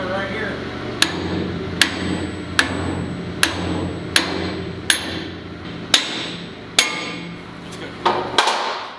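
Ten sharp hammer blows strike metal at a steady rhythm during repair of a Case IH 8120 combine, each ringing briefly over a low background hum, close and loud.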